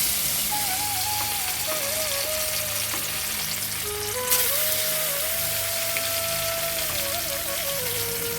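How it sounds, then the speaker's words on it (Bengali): Fish fry in hot oil in a kadai, a continuous soft sizzle and crackle with an occasional sharper pop, under quiet background music. "এরপর একে একে মাছগুলোকে ভেজে নেব।"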